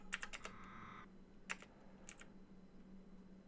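Computer keyboard typing while a player struggles with motorcycle controls in Midnight Club II: a fast burst of key clicks at the start, then a few isolated taps, over a steady low hum.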